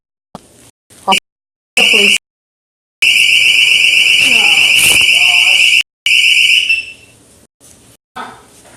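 A loud, piercing electronic alarm blares in bursts, cutting in and out with short gaps, while a person speaks between and over it.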